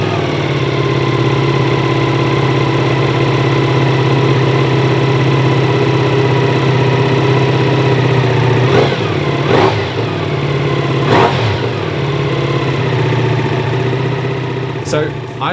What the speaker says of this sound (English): the exhaust sounds great, but you can hear the engine working